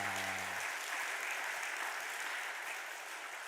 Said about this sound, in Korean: 우리 한 박수 한번 하도록 하겠습니다